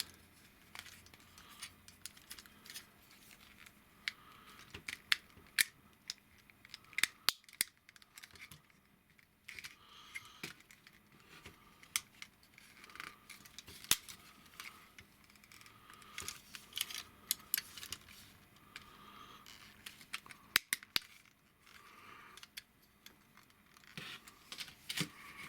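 A plastic Maketoys Screamer Transformers figure is handled as its leg is folded, producing faint scattered clicks and light plastic taps spread through a quiet room.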